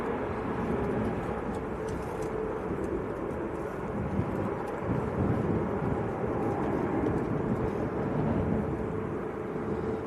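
An Airbus Neo airliner at Manchester Airport, a steady moderate engine roar and rumble with a faint whine running throughout, no talk over it.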